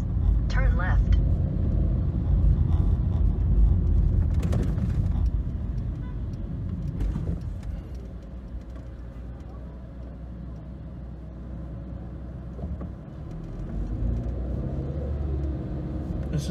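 A car drives through the streets of Gugulethu, Cape Town, its steady low road rumble and engine drone running throughout, with a voice talking over it and brief navigation prompts.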